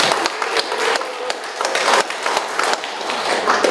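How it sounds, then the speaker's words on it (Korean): Audience applause for a speaker at a Korean forum on national security and the National Security Act: a loud, sustained wash of many hands clapping with crisp, scattered individual claps throughout, and no talking. "우리 좋은 말씀 해주신 사인고문께 다시 한번 큰 박수 부탁드립니다"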